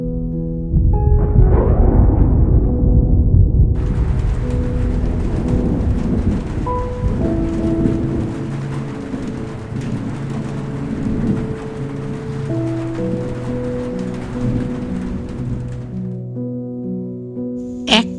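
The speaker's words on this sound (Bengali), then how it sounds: "এক পশলা বৃষ্টির নরম ছোঁয়া" A rain shower over the hills near Mairung Gaon, Kalimpong, in North Bengal, sounding as a steady, full wash of falling rain with low rumbling throughout, loud and continuous for the whole stretch with no talk.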